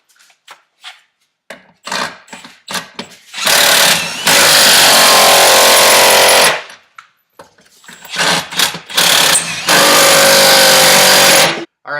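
A Milwaukee stubby Fuel impact wrench, running on a Milwaukee battery, hammers two bolts tight in two long loud bursts of rapid rattling impacts, separated by short clicks and handling noises.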